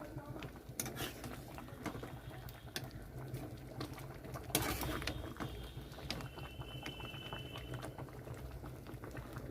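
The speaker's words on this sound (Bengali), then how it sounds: "এটা খুব ফুটে গেছে, ফুটছে।" Potatoes boil hard in a pot of water, giving a quiet, continuous bubbling patter with a few louder clinks and splashes, and no talking.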